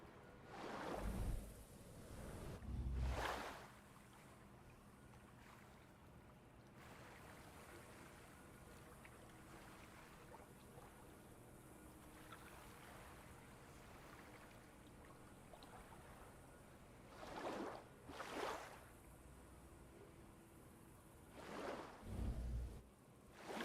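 Water poured in to flood a swamp in the game Jurassic World Evolution 2: soft rushing, flowing water texture running the whole time, with several louder whooshing bursts near the start and toward the end.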